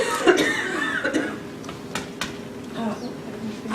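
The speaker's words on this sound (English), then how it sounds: "This cough, I've had it for like 3 weeks longer than you and I can't get rid of it." A lingering cough from a weeks-long illness, heard as a few short bursts in a lecture room, with a person talking and a faint chuckle nearby.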